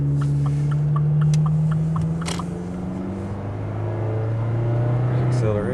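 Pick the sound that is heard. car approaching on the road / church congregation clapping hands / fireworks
car approaching on the road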